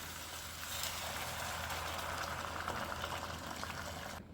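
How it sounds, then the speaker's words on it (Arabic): Boiling water poured over browned meat and tomato paste in a pot for Iraqi tashreeb, a steady loud hiss and gush of liquid filling the pot, continuous and close with no talk. "راح ندور المي المغلي"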